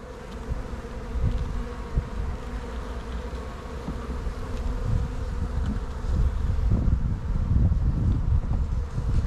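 Steady droning buzz of many honeybees swarming around a newly established, calm hive, with faint wind noise mixed in.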